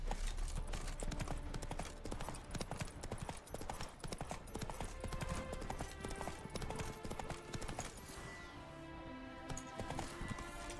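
In The Witcher 3 video game, horse hooves clip-clop continuously in a steady walking rhythm, close and prominent, over a dense game soundscape with faint background voices.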